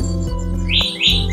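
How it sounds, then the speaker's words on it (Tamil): Sparrows chirp loudly after rain, with rising high tweets repeating over a constant low hum close by. "மழை வந்ததுனால சிட்டுக்குருவி எல்லாம் எப்படி சவுண்ட் கொடுக்குது இல்ல"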